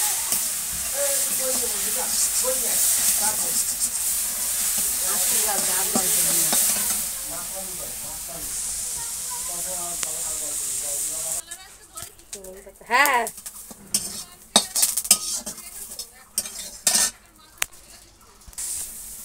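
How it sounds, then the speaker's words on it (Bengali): Neem leaves fry in a pan with a loud steady sizzle and hiss for several seconds, then quieter stirring with scattered clatters while a person speaks. "নিম পাতা ভাজা হয়ে গেছে।"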